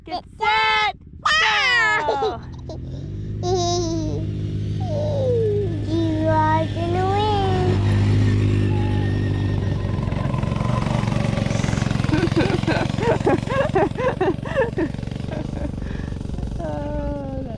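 A Coleman CK100-S gas-powered go-kart pulls away with a steady buzzing small-engine drone that holds for many seconds, while a voice calls out and people shout over it nearby.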